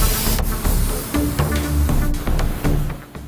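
A spray gun lays base coat paint onto new unpainted plastic parts for a Subaru Forester in a paint booth, loud hissing bursts repeating in short passes with brief gaps, close by.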